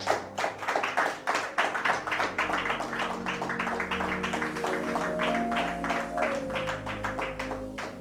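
A church congregation claps together in a steady rhythmic beat, dense and close, with voices rising in acclamation beneath the clapping.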